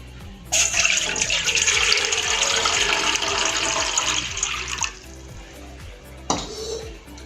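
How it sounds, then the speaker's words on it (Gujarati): Water pours steadily into a pot on a gas stove for boiling corn for about four seconds, then stops; a short clunk follows near the end. "તો સૌપ્રથમ આપણે ગેસ ઉપર પાણી મૂકીશું"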